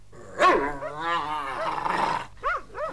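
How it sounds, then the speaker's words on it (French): Fierce dogs in a French audio drama set during a winter sports holiday bark and growl loudly and close, with a sharp bark, a rolling snarl and whimpering yelps, overlapping a voice. "Allez-vous-en, sale chien, allez-vous-en!"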